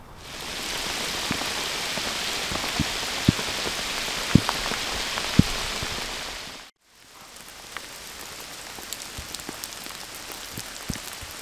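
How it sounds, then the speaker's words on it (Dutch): Rain pours steadily outdoors at a fishing spot among trees, a dense loud hiss with scattered heavier drips. It cuts out briefly, then returns as lighter, patchier rainfall with distinct drops. "Het begint nu te regenen."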